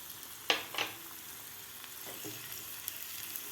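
Crushed garlic and red chili powder hit hot oil for a tadka, a sharp burst of sizzling with a couple of stirring scrapes, then a softer steady fry in a quiet kitchen.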